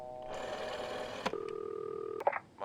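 A telephone dialed during a power outage in the video game This Bed We Made: a steady ringing tone, then a held keypad tone broken by short sharp clicks, close and clear, with no speech.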